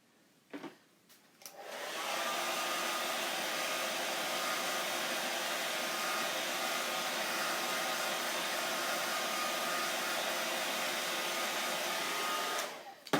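A hair dryer blows steadily on a freshly printed onesie, a loud close whoosh that switches on, runs evenly for about ten seconds, then clicks off.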